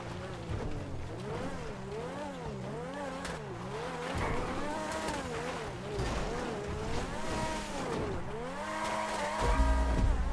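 X80 Proto sports car driven off-road in GTA 5, its engine revving up and down in wavering pitch sweeps, with tire noise and a heavy thump near the end.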